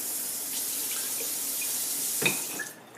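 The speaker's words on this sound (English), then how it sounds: "Add some water" Tap water runs steadily as it is added to a pan of homemade marinara sauce, a soft continuous hiss with a small splash near the end before the flow stops.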